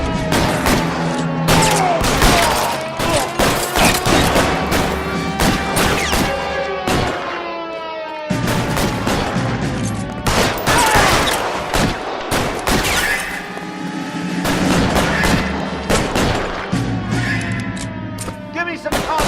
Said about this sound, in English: Lay down some cover and fire.